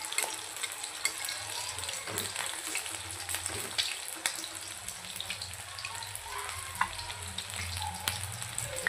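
Chilapi fish pieces sizzling steadily in hot oil in a pan, a continuous crackling fry with scattered sharper pops, undisturbed and fairly close.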